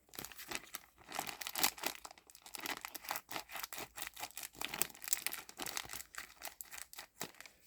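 Packaging for a Dooney & Bourke order crinkles and rustles as it is unwrapped, a close run of irregular crackling crumples and tearing bursts with brief pauses, no talking.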